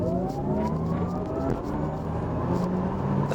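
An Audi RS e-tron GT electric car accelerates hard, its rising electric-motor whine climbing steadily in pitch over road and wind noise, loud and close from inside the cabin.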